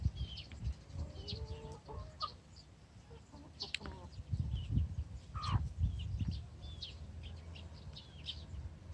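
Young silkie chicks, including a buff silkie, cluck and cheep in a repeated, irregular pattern at close range, with soft chirps mixed in over a low background rumble.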